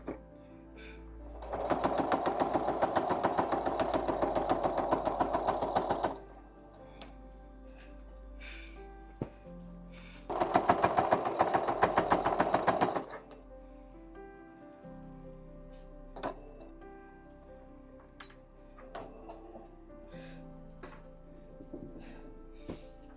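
A sewing machine quilts a split rail quilt in two sustained runs of steady stitching, the first about four seconds and the second shorter, separated by quiet handling of the fabric.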